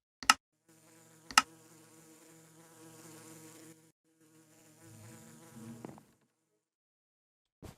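Bees buzz in the Minecraft modpack All The Mods 10, a steady droning hum lasting several seconds with brief breaks, framed by a few sharp clicks, with no talking.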